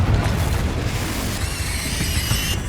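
A Confringo fire spell in Hogwarts Legacy bursts with a loud, full-band blast that rolls into a sustained roar, a bright ringing shimmer rising over it in the second half.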